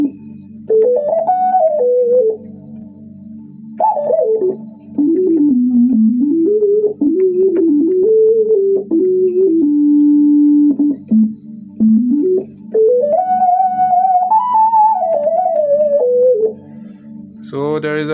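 A keyboard synth lead patch plays a gliding, sustained melody over a held low drone, with smooth pitch bends and short pauses between phrases.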